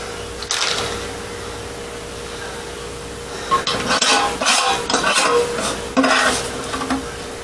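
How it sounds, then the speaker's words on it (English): Spoon stirring a homemade plum wine mixture in a container, light clinks and scrapes coming in short bursts against a steady background hum, close and moderately quiet. "Stir it up a bit."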